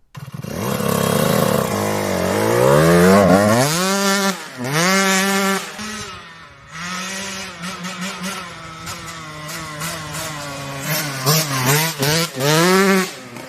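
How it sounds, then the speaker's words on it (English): A Yamaha YZ125 dirt bike fitted with a GYTR jet kit is rolled slowly and then flogged, engine revving hard in repeated rising howls with a slight bog, loud and close with no talking. "So all you do is you let the clutch out, you're rolling slow, and you just flog it, and you just see how the bike responds."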